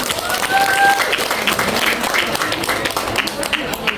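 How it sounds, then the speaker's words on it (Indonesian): Applause at a Year 9 graduation ceremony at a junior high school, greeting the first-ranked student, with steady dense clapping from a seated crowd in a hall, a voice speaking over it briefly. "tepuk tangan untuk peringkat pertama"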